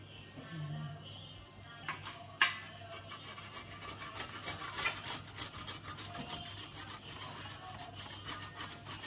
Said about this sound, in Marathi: अशा प्रकारे आपण सगळी हळद आता आणि आलं किसून घेणार आहोत